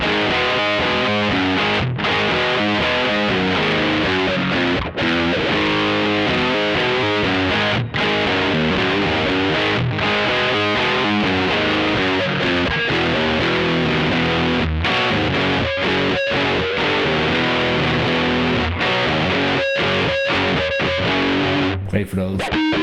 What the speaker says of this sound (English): if I hit the switch to series, you can hear it gets way more noisy, and it sounds like this.